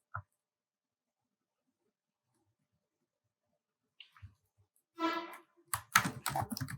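Keyboard typing while writing Python class code, quiet at first then a burst of clustered keystrokes near the end, close and fairly crisp with no talking.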